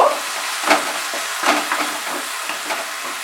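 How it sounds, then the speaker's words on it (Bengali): Tomato puree, a paste of one medium tomato, frying in a pan over raised heat, with a steady soft sizzle and hiss broken by a few scraping stirs and light utensil taps. "এবারে এর মধ্যে আমি টমেটো পিউরিটা দিচ্ছি, টমেটো পেস্ট। একটা মাঝারি সাইজের টমেটো আমি পেস্ট করে রেখেছি। আঁচটাকে আমি একটু বাড়িয়ে দিলাম, দিয়ে এবার এটাকে ফ্রাই করব"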